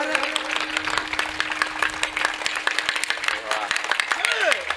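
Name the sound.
audience clapping hands loudly during kirtan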